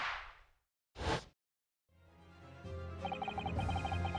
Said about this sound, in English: The Venus special you sell for 600 pennies sounds like this.